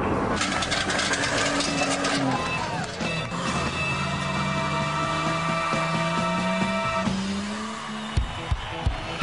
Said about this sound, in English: Cars and motorbikes whizzing past at lightning speed.